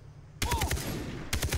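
Automatic gunfire in the Far Cry 3 video game, rapid bursts of AK-47 style shots cracking close and loud after a quiet moment, pausing briefly before another quick volley.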